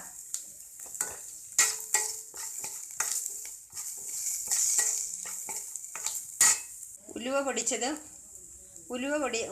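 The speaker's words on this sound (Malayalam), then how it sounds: "ഉള്ളി ഒന്ന് മയപ്പെട്ട് കിട്ടണം. ഒരുപാട് ഡീപ് ഫ്രൈ ഒന്നും ആവണ്ട." Onions frying in a pan and being stirred, with repeated scraping strokes and a steady sizzle, then a person talking near the end.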